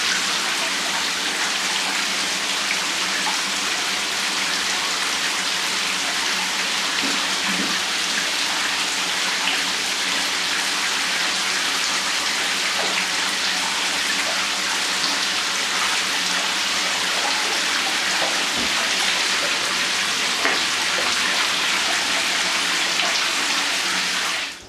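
A Mira electric shower fitted with a new solenoid runs steadily, water spraying in a loud, even hiss that continues unbroken for nearly half a minute before cutting off.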